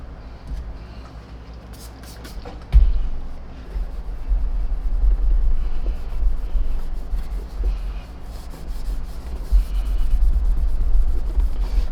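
A magic eraser scrubs the painted cover of a Riccar Radiance R40 vacuum cleaner, making a close, steady rubbing and scuffing with low rumbling thumps and one sharp knock early on.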